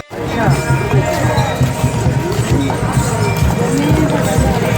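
Steady clip-clop of horse hooves amid a busy outdoor crowd at a Sikh Nagar Kirtan procession in Anandpur Sahib with horses, elephants and camels, with chatter and general procession noise throughout.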